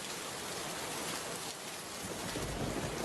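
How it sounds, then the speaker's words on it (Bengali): Heavy rain pours steadily in a cartoon storm, a dense, even hiss of falling drops with a faint rumble underneath, swelling slightly louder toward the end, with no voices. "বৃষ্টির বড় বড় ফোঁটা পড়তে শুরু করেছে, আস্তে আস্তে ঝড়ও শুরু হচ্ছে"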